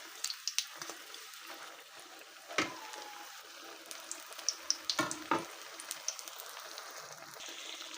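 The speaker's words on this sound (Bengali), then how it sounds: "তো এই পর্যায়ে আমি তেলের মধ্যে ছেড়ে দিচ্ছি।" Battered eggplant slices deep-frying in hot oil give a quiet, crackling bubble with scattered pops and a few louder splashy bursts, close and alone without talk.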